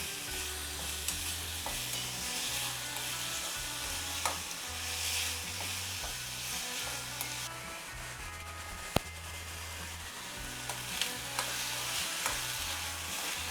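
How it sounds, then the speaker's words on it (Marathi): Ingredients for tarri poha roast in a pan over a raised gas flame, with a steady soft sizzle and repeated scraping strokes from the stirring spoon, close and fairly quiet with no voices. "हे भाजून घ्यायचं."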